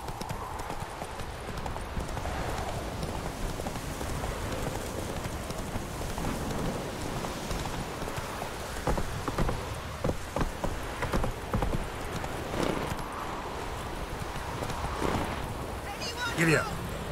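Horse hooves clip-clopping at a steady gallop in The Witcher 3 video game, a continuous rhythmic patter with game ambience and occasional voices mixed in.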